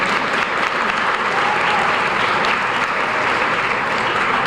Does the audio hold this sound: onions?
no